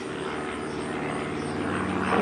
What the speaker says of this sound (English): A lot of planes today.